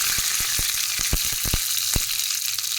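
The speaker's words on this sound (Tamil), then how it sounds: "ஒரு கடாயில் எண்ணெய் விட்டுக்கலாம். இதில் கடுகு, பெருங்காயம் போட்டுக்கலாம்." Mustard seeds, asafoetida, a dried red chilli and curry leaves crackle in hot oil in a kadai, a loud continuous sizzle with scattered sharp pops close up.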